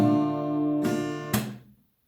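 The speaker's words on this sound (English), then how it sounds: "it's one downstroke, and on the way up you clap" A strummed acoustic guitar downstroke chord rings out, then a sharp hand clap lands, followed by a second clap as the chord fades.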